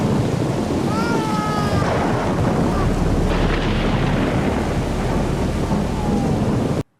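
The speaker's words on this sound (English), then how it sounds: "This is a bad storm." Heavy thunderstorm with steady loud rain and rumbling thunder filling the whole stretch, with a few faint voice-like tones drifting through the noise before it cuts off abruptly at the end.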